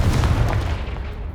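A Confringo fire spell blasts a pile of blocking debris in Hogwarts Legacy, a single deep booming explosion that hits at once and fades out over about a second, loud and close.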